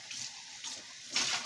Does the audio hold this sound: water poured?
yes